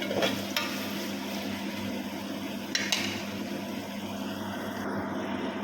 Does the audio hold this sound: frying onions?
yes